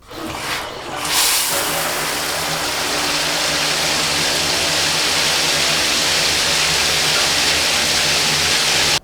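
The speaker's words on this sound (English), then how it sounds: "Or the shower getting turned on." A shower is turned on and water begins pouring, a brief click and hiss giving way to a loud, steady, broadband rush of spray that continues unbroken.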